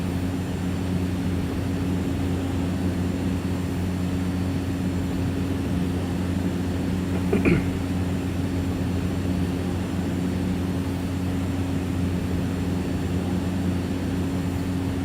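A Cessna 208 propeller engine at reduced throttle in the X-Plane flight simulator gives a steady, loud droning hum with a strong low tone, unchanged for the whole stretch apart from one brief click midway.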